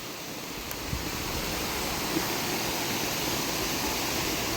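The Narmada river pours over the Kapildhara waterfall, a dense, continuous rush of falling water heard close and steady, with no voices over it.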